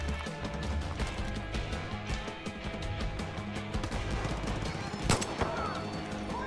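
Gunfire in the video game Far Cry 5, a steady stream of close, loud shots layered over game ambience, with one sharper, louder blast near the end.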